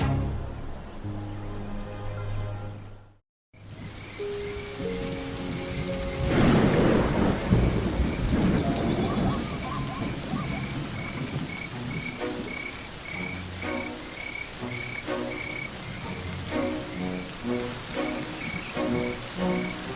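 Rain falling on the Serengeti plains with thunder: a low rolling rumble builds into a loud crack and long roll over steady hissing rain, with frogs croaking in a regular rhythm throughout and no voices.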